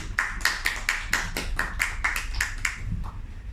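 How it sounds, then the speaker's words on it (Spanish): Applause welcoming guest Cristian Velasco at a Spanish-language talk event: a short run of evenly spaced claps, about ten in a row, moderately close against a low background hum, tailing off at the end. "Un aplauso."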